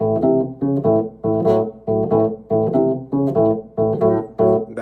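An electric guitar plays a Chicago blues pattern over the 4 chord, short chopped chord stabs in a steady shuffling rhythm, loud and close with no voices.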